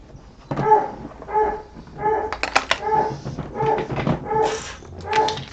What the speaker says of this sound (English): She will bark like that until Dave walks in the house.